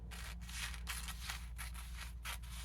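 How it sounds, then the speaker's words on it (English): Scissors snip folded paper for a snowflake in a quiet room, with about six short, evenly spaced cuts heard up close and no talking. "And we'll just go ahead and cut along"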